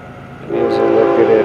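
An FEC freight train rolls through an activated crossing, its rumble swelling close and loud after a quiet start, with a brief horn-like tone above it.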